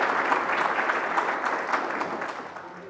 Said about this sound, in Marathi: जोरदार टाळ्या वाजवून आपण पत्रकारांचं स्वागत करा